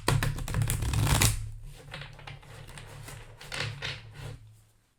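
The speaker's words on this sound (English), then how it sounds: "while I shuffle the cards" A deck of cards shuffled steadily at close range, a dense fluttering riffle that swells, eases off, then picks up again over a low hum.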